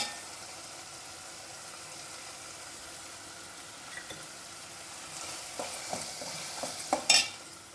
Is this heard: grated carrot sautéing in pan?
yes